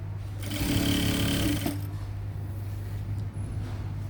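Sewing machine stitching the slit of a churidar, a steady close mechanical whir that runs hard for about a second and a half, then quiets to a lower hum for the remainder.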